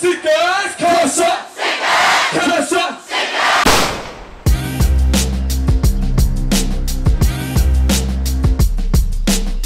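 A concert crowd at a show roars and chants in unison, loud and raucous for several seconds, before heavy bass-driven music with a steady thumping beat takes over.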